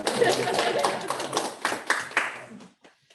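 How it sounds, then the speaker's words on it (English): Brief burst of clapping from people at a board meeting, a few seconds of scattered hand claps mixed with voices, fading out quickly. "think we should clap."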